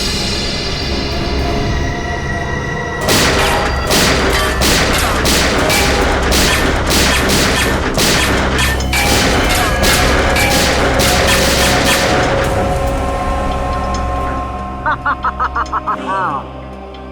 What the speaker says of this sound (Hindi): क्यों फिजूल में कानून की गोलियां बर्बाद कर रहे हो